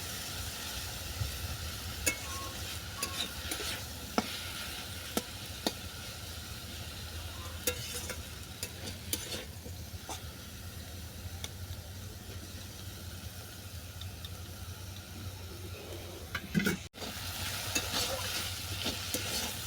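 Bitter jute leaves and potatoes stir-fried in a pan, with a steady close sizzle and repeated scraping stirs throughout and a brief break near the end.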